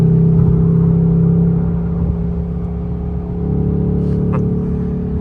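A Ford Mustang's exhaust in sport or track mode drones with a deep, steady rumble close by, easing slightly midway and then swelling again, with no talking over it.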